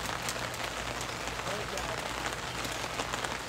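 Rain patters steadily on surfaces outdoors, a dense faint hiss of drops with people talking over it.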